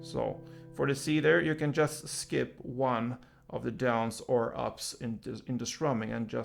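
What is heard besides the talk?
No distinct noise like a dog, phone or traffic.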